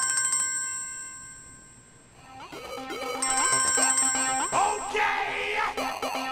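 An incoming-call phone ringtone plays a bright electronic melody of repeating tones, faint at first then louder and busier, ringing alone without talk.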